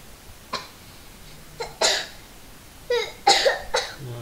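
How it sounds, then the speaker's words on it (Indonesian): Several short, sharp coughs from one person close by, spaced irregularly, with a quick double cough near the end and quiet between them. "Nah, batuk."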